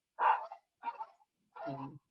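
Dogs bark indoors in three short bursts, fairly close and moderately loud, with brief gaps between them and no talk over them.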